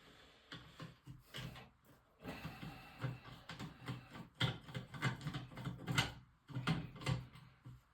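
Close, quiet ratchet clicking while bolts on a toilet safety rail are tightened, coming in irregular bursts of metallic ticks with short pauses between strokes.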